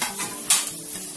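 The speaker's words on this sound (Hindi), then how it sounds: "2 मिनट हो गए तो इसमें शिमला मिर्च भी हम डाल देंगे" Capsicum drops into carrots frying over a high flame, giving a brief close sizzle and stirring rustle with a sharp hiss burst in the middle, no talking.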